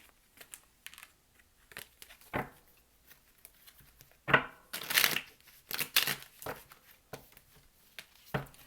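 Tarot cards being shuffled by hand, a series of crisp riffling and flicking bursts of varying length, fairly close and moderately loud, with no talking.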